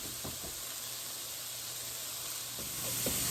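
Garlic sizzles in olive oil in a pan as it is stirred, a steady close hiss broken by a few soft stirring taps.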